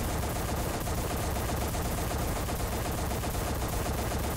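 A T-90 main battle tank fires its gun in War Thunder, heard as a dense, continuous barrage of loud booming blasts and rumble filling the whole clip.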